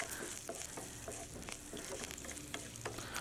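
Rice and curry leaves stirred in a pan over a low flame for sambar give a steady soft sizzle with scattered light scraping clicks throughout.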